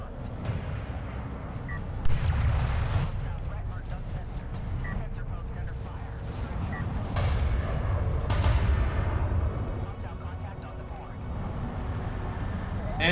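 Railguns fire in Homeworld: Deserts of Kharak, sharp repeated blasts and rumbling impacts in a busy battle soundscape while a commentator talks over it.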